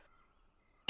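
A single short, loud burst at the very end, like a sneeze, follows near silence with a faint tone. It comes during a tabletop role-playing session.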